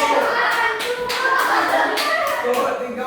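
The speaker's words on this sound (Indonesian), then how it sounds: "Berikan dulu tepuk tangan untuk kelompok 3." Children in a primary school classroom clap together for a student group, a steady rhythmic applause of repeated hand-claps, loud and close, with little talking.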